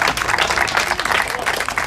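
Crowd applause for a ski jumper at the opening of renovated ski jumps, a brief burst of dense, steady clapping from a group of spectators, moderately loud.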